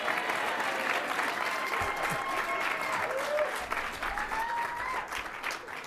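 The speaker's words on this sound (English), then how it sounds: "Can we have an applause for Virginia here, please?" Sustained audience applause at a tourism awards ceremony, a dense steady patter of many hands filling the room for several seconds, with faint voices under it.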